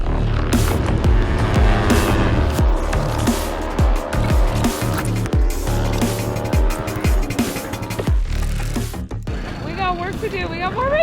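Race cars speed around Brainerd International Raceway, loud engines roaring and passing close with tire squeal and rising and falling revs; the engine noise drops away near the end and a voice is heard over quieter background.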